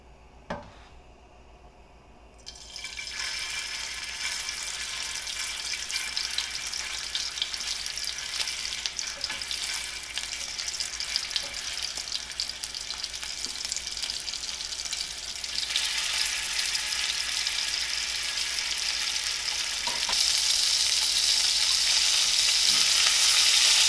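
Bacon-wrapped mozzarella sticks fry in a preheated hot pan, giving a steady loud sizzle that starts a few seconds in and grows brighter and more intense toward the end, with no talking.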